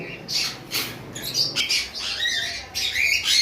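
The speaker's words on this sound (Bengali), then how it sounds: "অ্যালবিনো ব্রিডিং পেয়ার কোকাটেল গুলো খুবই বিগ সাইজের দেখতে পাচ্ছেন" Albino cockatiels from a breeding pair give repeated harsh, shrill squawks and short calls in close, irregular bursts over faint background noise.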